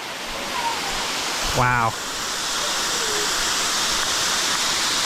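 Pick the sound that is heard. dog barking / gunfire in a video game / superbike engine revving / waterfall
waterfall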